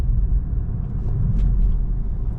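A BMW 335i F30 engine runs after a charge pipe repair, a loud steady low rumble heard close, with no voices.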